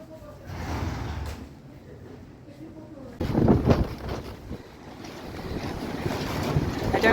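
Storm winds buffet the microphone in hard, roaring gusts, quieter at first and then surging loud and rough through the second half, with no voices heard.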